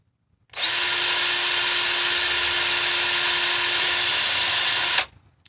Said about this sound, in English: One last hole with the drill bit B, 46 thousandths.